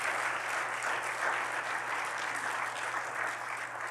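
A church congregation applauds during a worship service, a steady, fairly soft wash of clapping lasting throughout without pause, set back slightly in the room.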